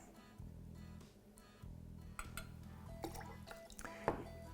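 Heavy 18% cream poured into a glass or shaker for a Ramos Gin Fizz: a quiet, brief liquid trickle with small glassy clinks and drips near the end.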